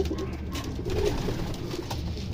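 Pigeons coo during an evening feeding, a steady murmur of soft overlapping calls close by over a dense, constant background of rustling and low noise.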